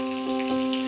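Mustard seeds and green chili hitting hot oil for paneer chutney give a steady, close sizzle and crackle with soft popping throughout, and a faint tonal hum sits underneath.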